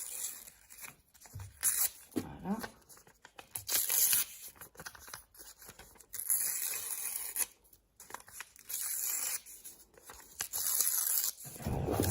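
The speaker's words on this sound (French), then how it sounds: "on va prendre le papier, je vais mettre ça ici, et on va déchirer les bords pour celui-ci" Paper torn by hand along its edges, producing several ripping bursts with short pauses between them, close and fairly quiet, with a brief spoken word near the start.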